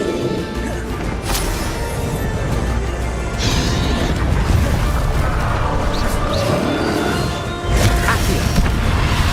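Spell impacts and explosions from the Bombarda spell in Hogwarts Legacy come as several loud, sharp crashes and booms over dense, continuous game noise and combat effects.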